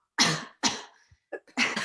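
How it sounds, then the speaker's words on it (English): A deliberate fake cough during a pelvic floor breathing lesson, two sharp forced coughs followed by a softer throat-clearing sound and another cough, close and dry with no talking. "do a fake cough"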